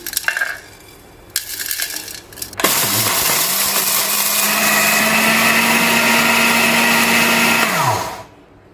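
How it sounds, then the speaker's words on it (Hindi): After a few clinks and rattles, a blender roars to life at high speed, grinding whole spices for biryani masala loudly and steadily for about five seconds before winding down. "अब ये सारे मसाले मैं डाल दूँगी ब्लेंडर जार में"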